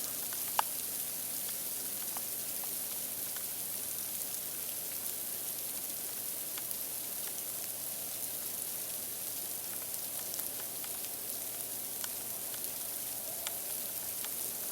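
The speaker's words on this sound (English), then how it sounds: "We got a light precipitation coming down. It's kind of a mix of frozen rain or sleet and quiet." Light sleet mixed with frozen rain falls steadily at the end of a blizzard, a soft, even hiss of fine ticks and patters with occasional sharper individual hits, quiet and continuous with no voices.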